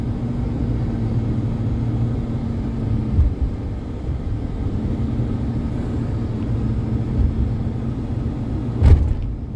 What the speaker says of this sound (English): this is a heavy duty vehicle